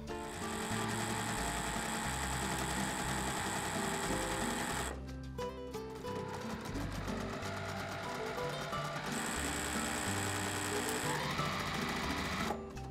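Sewing machine stitching quilt block pieces together, a close, rapid mechanical whirring hum that runs steadily, briefly pauses midway and resumes, with no talk.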